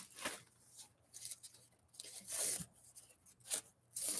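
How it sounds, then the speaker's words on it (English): Stiff, hard paper is crinkled and torn in short bursts of crackling and ripping, close by and fairly quiet, with brief pauses between handlings. "Y'all heard that nice and hard paper?"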